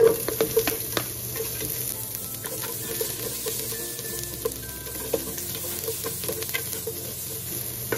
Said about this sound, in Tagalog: Pwede na natin ilagay yung ating mantika. Atin pong bawang. At yung sibuyas.